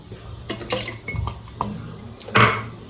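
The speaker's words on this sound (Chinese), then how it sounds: "给它搅拌均匀" Moon cake dough ingredients, inverted syrup, peanut oil, lye water and a few drops of baijiu, stirred together in a basin, giving wet scraping and sloshing strokes in bursts with a louder clatter near the end.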